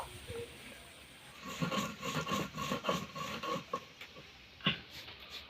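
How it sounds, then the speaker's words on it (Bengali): Roasted cumin and five-spice seeds are ground on a flat grinding stone, producing a quiet, rhythmic run of rough rubbing and scraping strokes at close range, with a last louder scrape near the end. "এবার আমি এটা শিলে গুঁড়ো করে নেব।"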